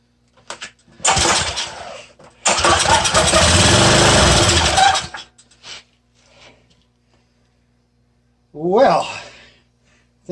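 A small salvaged engine with a suspected fuel-feed fault cranks in two rough bursts, sputtering briefly before falling silent; a voice comes in afterward.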